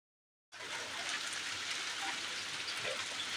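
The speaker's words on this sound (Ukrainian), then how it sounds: "Після такої спеки у нас пішов дощ нарешті." After a brief silence, steady rain starts and continues as a dense, even hiss of drops falling on surfaces.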